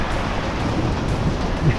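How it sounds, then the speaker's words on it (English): Rain falling outdoors on a mountain bike ride in the Aínsa-Sobrarbe hills of Spain, a steady, dense hiss of wet weather with a low rumble beneath and no voices. "It might be raining a little bit."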